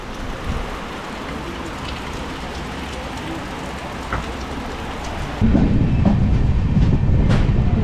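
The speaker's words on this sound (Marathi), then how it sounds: "पण मुसळधार पावसाला सुरुवात झाली आहे" Heavy monsoon rain drums steadily against a moving train in Konkan, with the rumble of the carriage beneath; the downpour grows louder and denser partway through.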